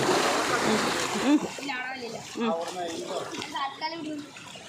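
People swim and splash in the clear, fairly deep water of the Kallamoola river, a burst of splashing followed by voices talking and calling over lighter water sounds.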